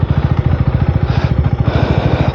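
A KTM Duke 390R motorcycle engine idles up close with a steady, rapid single-cylinder thump that stays loud and even throughout, with no talking.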